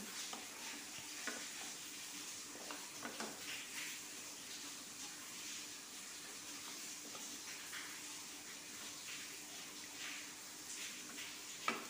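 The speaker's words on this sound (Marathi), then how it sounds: "आता मिक्स करून घेऊया छान" Soaked sabudana (tapioca pearls) being stirred and mixed in a pan, giving a soft, steady scraping hiss that stays faint and continuous, close by, with no talking.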